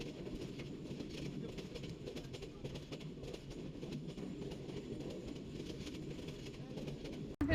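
A train journey plays from a video, a steady low rumble of rail cars with faint rhythmic clatter running continuously at moderate level before cutting off abruptly.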